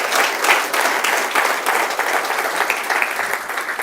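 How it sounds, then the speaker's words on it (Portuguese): A church congregation claps loudly and steadily for several seconds, a dense, continuous patter of many hands with no voices on top. "E se você crer, aplauda forte"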